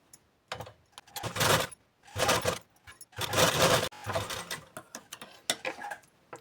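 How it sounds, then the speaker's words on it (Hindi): A sewing machine top-stitches blouse fabric and lining in short bursts, whirring mechanically for a second or so at a time with brief pauses between runs, close and loud. "तो इसके ऊपर पे मेन कपड़े के टॉप सिलाई लगा लेंगे"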